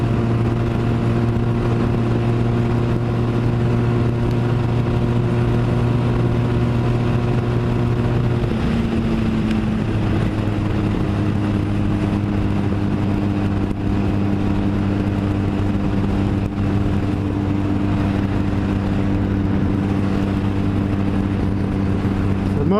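A Honda Rebel motorcycle engine drones steadily while climbing a hill, a loud sustained hum that shifts pitch partway through as the bike picks up speed, with wind noise and no talk.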